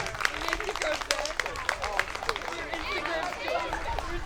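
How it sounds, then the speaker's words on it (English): An audience at a swim team awards night claps for the coaches: scattered, uneven applause from a modest crowd with voices chattering underneath. "So let's give a big round of applause to our coaches and Zach, who's not here with us tonight."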